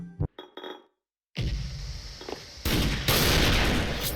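Video game gunfire from a TAC-50 sniper rifle: a few sharp metallic clicks, then a brief silence and a loud burst of blasting shots that swells and continues to the end.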